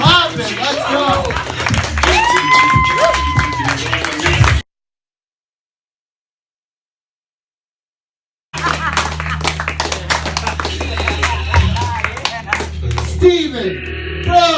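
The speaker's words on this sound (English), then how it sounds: "Keep clapping." Audience clapping and crowd noise at a stand-up comedy show, a dense continuous patter of applause under chatter, breaking off into a few seconds of silence before resuming just as loud.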